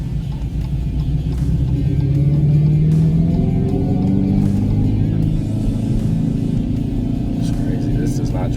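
A 2025 Dodge Charger Daytona R/T electric car driving, giving a deep steady synthetic engine-like rumble with a rising tone midway, heard from inside the cabin throughout.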